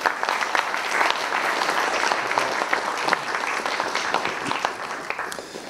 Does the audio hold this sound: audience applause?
yes